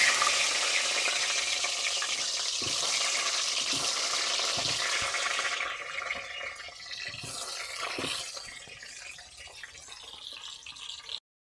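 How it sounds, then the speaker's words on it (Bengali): Potatoes fry in hot oil for chicken biryani, giving a steady, loud sizzle that softens after midway, with occasional clinks of stirring and no voices. "এভাবেই সব ভেজে নিচ্ছি।"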